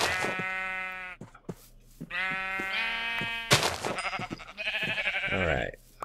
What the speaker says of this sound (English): Whoa, a bunch of sheep over there.